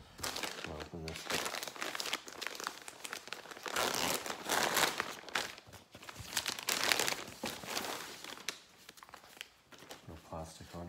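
Plastic packaging around a new t-shirt being opened, a quiet stretch of crinkling, rustling and tearing with irregular bursts close by.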